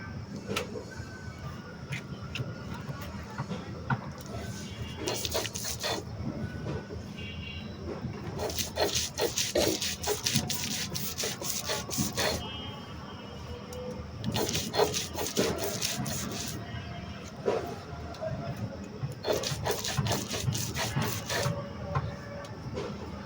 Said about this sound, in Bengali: ডালটা বেটে শেষ করে নিই।